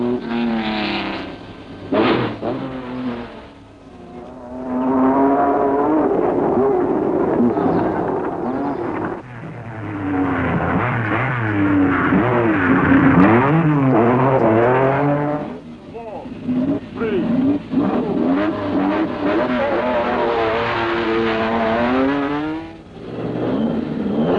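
1970s rally cars, among them a Ford Escort, race over the rough roads of the Greek rally, engines roaring and revving loudly through repeated gear changes, nearby and almost continuous with short dips between passes.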